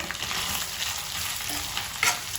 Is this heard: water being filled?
no